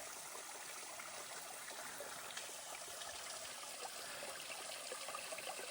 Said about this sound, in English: it's just so nice to see water flowing